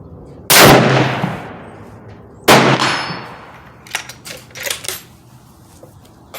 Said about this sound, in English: But I'm gonna shoot you 3 shots as it is.